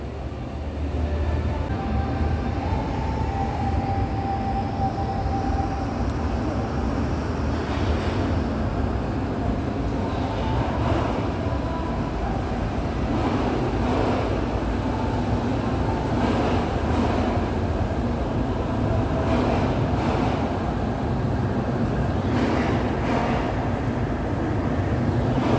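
São Paulo monorail train pulling into a station, a steady broadband rumble of running gear and motors with faint clanks and hiss, close and continuous throughout, no talking.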